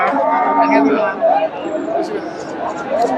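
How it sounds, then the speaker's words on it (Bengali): Cattle, including a Friesian cross bull, mooing amid a busy crowd at Dhap cattle market in Bogura, Bangladesh, with people chattering and talking all around throughout. "ফ্রিজিয়ান ষাঁড়,"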